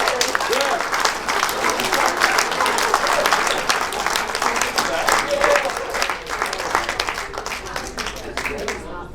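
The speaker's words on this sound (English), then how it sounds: "Give her a big round of applause." A theater audience bursts into sustained, dense applause that stays loud and steady for several seconds, thinning only slightly toward the end.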